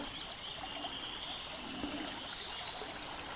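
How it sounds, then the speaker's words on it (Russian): Spring floodwater rushing along a swollen river during a hunting trip, a continuous rushing and trickling wash heard steadily from nearby, fairly quiet with no voices. "Большая вода, страшная вода."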